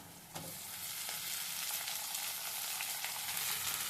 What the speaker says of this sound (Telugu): టమాటాలు కూడా వేసేస్తాము